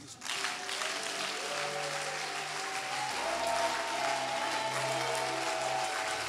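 A church congregation applauds and cheers loudly and steadily for the whole stretch, with sustained keyboard or organ chords ringing beneath the clapping.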